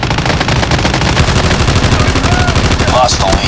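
Rapid automatic gunfire from Call of Duty Mobile rattles on in a fast, steady stream of loud shots, close and continuous throughout, with a brief voice and faint effects underneath.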